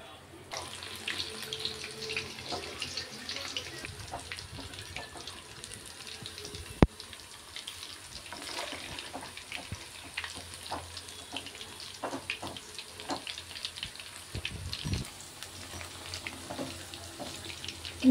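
Chicken pakodi deep frying in a pan of hot oil, a steady close bubbling sizzle with scattered pops and crackles running throughout.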